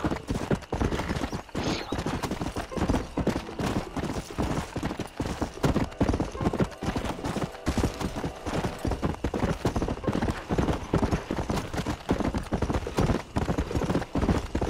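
Horse galloping in the Western video game Red Dead Redemption: a fast, continuous drumming of hooves, close and loud for the whole stretch, with occasional snorts or whinnies over game ambience.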